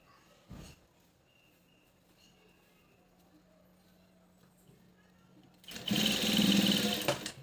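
Sewing machine stitching a blouse, a short burst of rapid mechanical whirring near the end after quiet handling sounds and a single knock.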